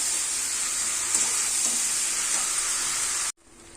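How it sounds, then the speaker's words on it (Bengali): Spices stir-fried with prawn heads in hot oil give off a loud, steady, close sizzle that runs unbroken for over three seconds, then cuts off abruptly. "ভালো করে নেড়ে ফেড়ে কষার হবে মশলাগুলো মাথাতে ভালো করে"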